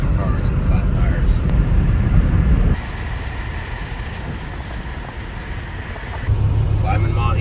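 A white dually pickup truck rolls over badly broken, rough road surface, giving a steady loud rumble and road roar that drops and then rises again, with no talk.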